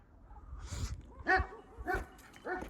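A shepherd's dog barks about four times in a loose rhythm, close by and fairly loud, with brief gaps between barks.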